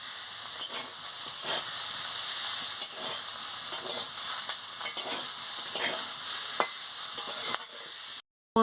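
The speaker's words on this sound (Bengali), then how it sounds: "কিমা দিয়ে ভালো করে আলু বেগুনের সঙ্গে ভেজে নিচ্ছি" Minced meat frying with potato and eggplant in a pan gives a steady, close sizzle with scattered stirring scrapes and clicks, cut off abruptly near the end.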